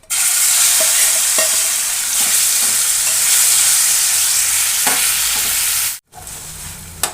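Ground spice paste for brinjal bharit fries in plenty of hot oil, a loud continuous close sizzle with occasional stirring scrapes, briefly cut off near the end before resuming more quietly.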